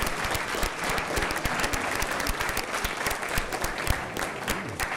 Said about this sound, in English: can we give all those groups another round of applause?